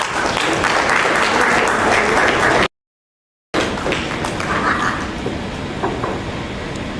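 A large audience at a Silkflex Polymers India corporate event in Ahmedabad bursts into loud, sustained applause, broken by a brief dropout before the clapping resumes and slowly thins.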